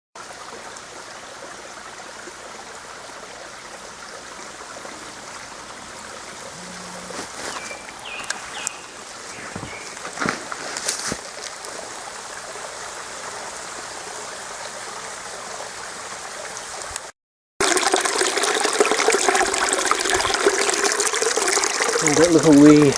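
Small forest stream flowing in the bush, a steady wash of water close by that grows louder and brighter toward the end, with occasional footsteps and brushing through vegetation.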